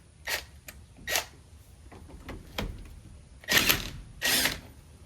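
A 7/8 socket wrench ratchets a bolt loose on a steering wheel: several separate bursts of clicking, two short ones early, then fainter clicks, and two louder, longer ratcheting runs near the end, close by with no talk.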